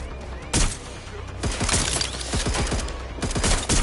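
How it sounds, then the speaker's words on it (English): Gunfire in the video game Watch Dogs: Legion: a loud burst of shots cracking in quick irregular succession, with sharp reports and clattering, over a steady low background hum. "Watch out! Shots fired!"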